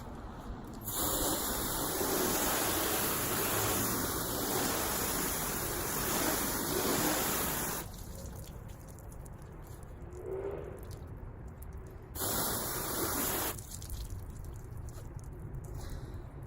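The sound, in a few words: water spray washing off car wax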